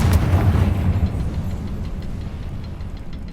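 A loud Confringo fire-blast spell explodes in Hogwarts Legacy: one sharp booming burst at the start, then a rumbling tail that fades over a few seconds, with no talking.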